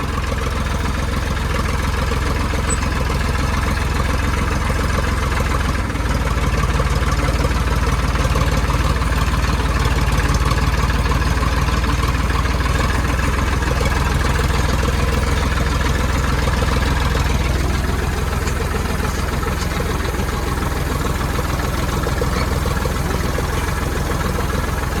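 A tractor engine idles steadily in a groundnut field at harvest time, a continuous, loud, low rumbling drone that stays unchanged for about twenty-five seconds with no voices.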